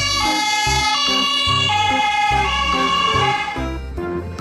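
Toy ambulance siren wailing loudly and continuously in a stepped, alternating two-tone pattern, close up with no talk over it.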